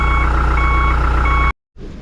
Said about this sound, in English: That beeper is buried in there.